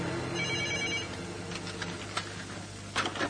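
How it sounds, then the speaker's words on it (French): Telephone ringing in a radio drama, a trilling bell in the first second, then fading into faint clicks and noise. "j'entends le téléphone qui sonne"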